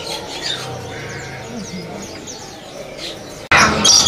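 Birds chirp and squawk at a bird-market kiosk in Pasar Pramuka selling songbirds such as canaries. Busy, overlapping calls sit over steady background market noise, ending in a sudden loud burst.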